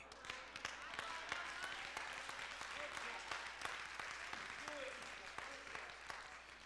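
A church audience claps steadily, a dense, continuous patter of many hands at moderate distance, faint and even throughout.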